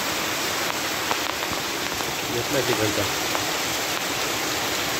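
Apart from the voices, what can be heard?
heavy rain and flowing floodwater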